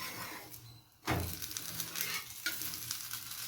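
Masala rava roti cooking in ghee on a pan hisses quietly, then is flipped, bringing a sudden louder sizzle that continues steadily with light scraping.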